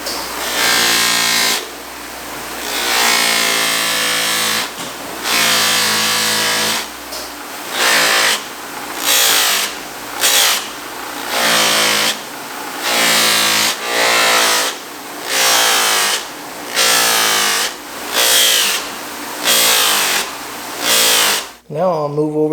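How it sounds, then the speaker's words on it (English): A tightly spiral-sewn sizzle buffing wheel with compound works the surface of a PUMA White Hunter shoe. It makes a loud, steady whirring rub that comes in repeated passes separated by short breaks, ending with a brief clatter. "I'm going to switch over to what's called a sizzle wheel"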